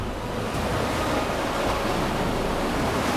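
Gale force wind at sea with waves, a dense, loud roar of wind and breaking surf that stays constant throughout, with no voices.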